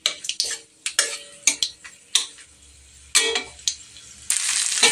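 Bay leaves and whole garam masala fry in ghee in a pan, heard as a string of clicking stirring taps and scrapes followed by a rising sizzle at the end.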